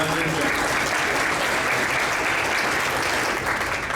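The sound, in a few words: audience applause for cheerleaders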